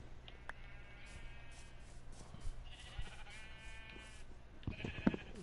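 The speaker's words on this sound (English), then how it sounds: "I'll leave the sheep until we know if we're hearing them in that hallway" Sheep in Minecraft bleat several times at a distance over a low, steady game ambience, with a louder bleat near the end.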